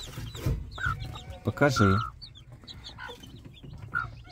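A brooding hen clucks close by beside her newly hatched chicks, their high peeps scattered throughout, while a person speaks briefly.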